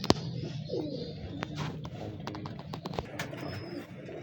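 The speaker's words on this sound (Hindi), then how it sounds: "बड़ा अच्छा वेटलेस कबूतर है" Soft, low cooing of Sialkoti pigeons continues over steady outdoor background noise, with scattered sharp clicks and faint chirps, no voices.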